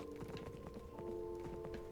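Horse hooves clip-clop at a steady walking rhythm in a Dungeons & Dragons video game, fairly quiet and continuous over a sustained musical tone.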